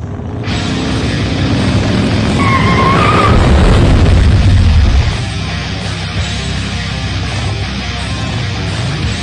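A motorcycle engine drones steadily on a dyno machine, loud and close, rising to a heavier roar midway before settling back to a constant hum with no talking.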